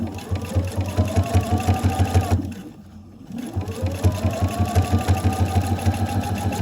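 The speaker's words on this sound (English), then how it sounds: "Just start sewing." A sewing machine running with a rolled hem foot, a steady fast mechanical chatter that stops briefly partway through, then resumes at the same even pace.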